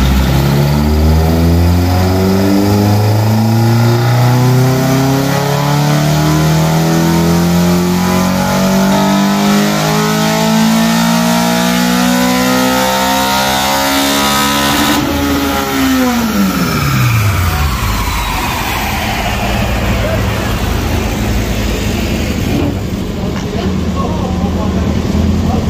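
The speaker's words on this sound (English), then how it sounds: "here's going to be a dyno run of the Corolla XRS on the dyno" A Toyota Corolla XRS engine climbs steadily in pitch through a long, loud pull on a dynamometer, then drops off sharply as the run ends, leaving a lower idle and roller whir.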